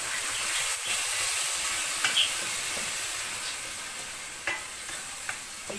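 Rice stirred and fried in a pan gives a continuous, close sizzle, with occasional light scrapes and clinks from the stirring.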